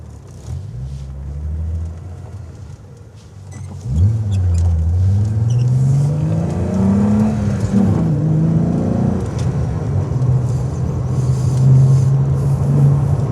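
A VW Golf MK2 VR6 engine with a BMC CDA air filter idles, then revs up with a rising, falling growl before settling back to a steady, throaty idle, loud and close.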